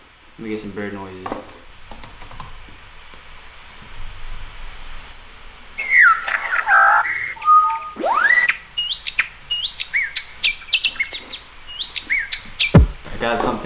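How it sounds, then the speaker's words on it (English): Bird chirping sample played during music production, a series of bright tweets and chirps, loud and close, alternating with brief clicks and other sample sounds. "Let me get some bird noises."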